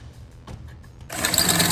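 A brand-new drill bit bores into a C7 Corvette during an XIK GT wing install, starting after a quiet second as a loud, steady high-pitched whir that continues to the end.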